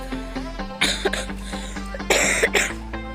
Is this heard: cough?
yes